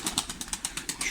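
Rapid bursts of wing flapping as young pigeons take off, repeating in a steady rhythm of quick, airy beats close by.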